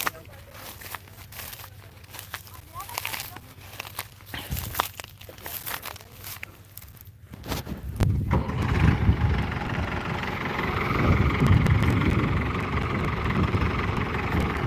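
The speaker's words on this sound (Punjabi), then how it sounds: "ਔਰ ਸਟਾਰਟ ਹੋ ਗਿਆ ਟਰੈਕਟਰ" A heavy diesel tractor engine cranks and catches, settling into a loud, steady rumble after a stretch of quieter ambient noise, on a farm at radish harvest.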